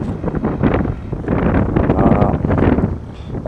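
A raspy, rough ATV engine exhaust runs steadily up close, loud and breathy with a crackling, sputtering edge from an exhaust leak where a homemade pipe attaches to the header, and no voices.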